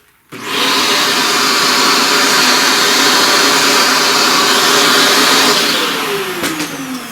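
A vacuum cleaner clears pastel dust from a flower drawing. The motor switches on abruptly, holds a loud, steady whine for about six seconds, then winds down.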